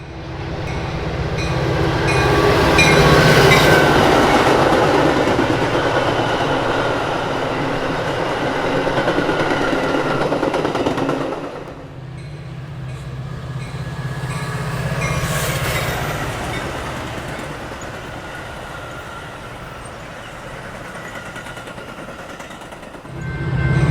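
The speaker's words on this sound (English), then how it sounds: "Another westbound express rockets through town." A westbound Metra express train led by a doubleheader of F40 locomotives roars through Downers Grove, loud and close with rumbling wheels and rail clatter, easing off midway before a second swell of passing cars.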